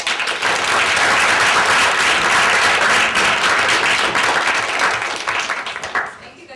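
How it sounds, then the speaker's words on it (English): An audience at a student acting showcase gives Ms. Smith a loud round of applause, a thick, continuous burst of many clapping hands that holds strong for several seconds and then fades out. "So I'd like to give Ms. Smith a big round of applause."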